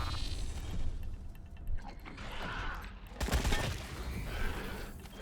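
Run-and-gun firefight in the post-apocalyptic role-playing game Wasteland 3: a steady clatter of overlapping shots and mechanical game effects, with a sharper, louder volley near the middle.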